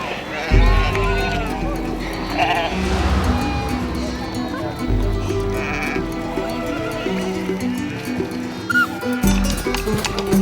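Several sheep bleating repeatedly at close range over a narrator's voice, with trampling hooves and bustle from the flock as Aymara herders near Lake Titicaca treat them for skin parasites.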